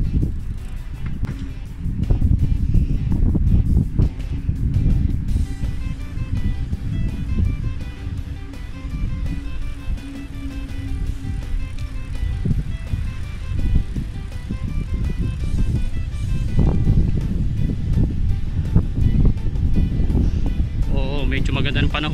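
Steady gusty wind at Amwaj Lagoon, Bahrain, buffets the recording, rumbling low and loud throughout, with people talking over it.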